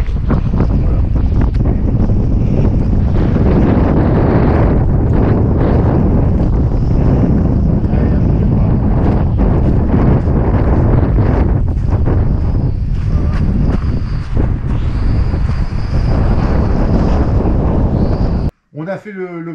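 Strong storm wind buffets the microphone in a loud, continuous roar at a model warbird plane flying field, cutting out abruptly near the end.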